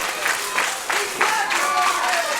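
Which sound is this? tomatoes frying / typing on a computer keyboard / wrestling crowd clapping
wrestling crowd clapping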